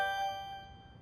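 A short notification ding for a phone message sounds in the video game Date Everything, a bright chime that rings out and fades over about a second, fairly quiet.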